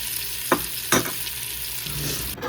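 Rice added to a hot pan sizzles in a steady, faint fry, with a few sharp scraping stirs cutting through.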